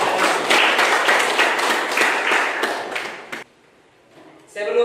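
Classroom applause for a student presentation rattles on for about three seconds of dense clapping, then stops abruptly, and a voice starts speaking just after.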